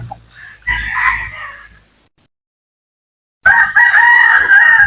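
Native chickens crowing and clucking outdoors at a farm, a rooster's crow and hen calls loud and near, broken by a brief quiet gap before another strong crow.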